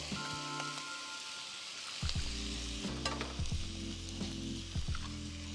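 Cracked eggs scrambling in a hot pan for shrimp fried rice, a quiet sizzle that jumps louder after two seconds, with repeated spatula scrapes and knocks over a steady frying hiss.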